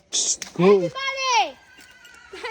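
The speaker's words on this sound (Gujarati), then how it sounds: "ઘોડા બોલે છે" A nearby horse gives a single loud, wavering whinny that rises and then falls away, brief and clear with little else around it.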